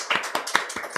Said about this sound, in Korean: 함께 박수 한번 했으면 환영하겠습니다